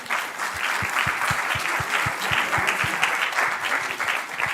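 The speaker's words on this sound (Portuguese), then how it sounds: "Uma salva de palmas, então." Audience at a business panel on customer experience and customer success breaks into steady, sustained applause, a dense wash of clapping that holds at an even level throughout with no voices over it.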